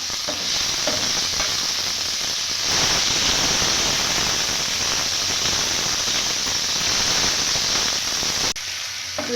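Onions, vegetables and ginger-garlic paste fry in a pan for an egg dish, giving a steady, close sizzle with faint stirring scrapes throughout and no talking.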